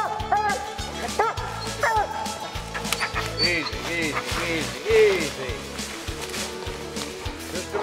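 An excited raccoon hunting dog barks repeatedly in short, close yips mixed with whimpers, a steady rapid rhythm running throughout, while people talk occasionally in the background.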